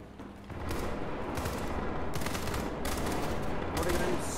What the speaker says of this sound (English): Oh my god, they're shooting.